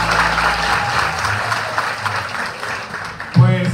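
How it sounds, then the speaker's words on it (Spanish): Congregation applauding a visiting Claretian missionary priest at a priestly ordination Mass in a parish church, a sustained wash of clapping that thins toward the end, where a brief voice or sound cuts in. "Un aplauso."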